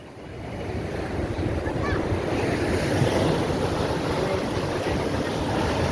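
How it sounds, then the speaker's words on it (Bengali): Big ocean waves surge and crash at Digha beach in the rainy season, a steady, loud roaring wash of surf with wind buffeting the microphone throughout. "জল অতিরিক্ত পরিমাণে, অতিরিক্ত ঢেউ।"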